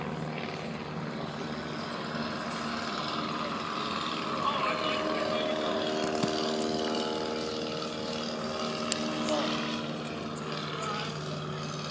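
Experimental Piper PA-11 light aircraft flying at a Wisconsin airshow, a steady droning propeller engine hum held throughout, fairly loud with slight pitch shifts as it passes.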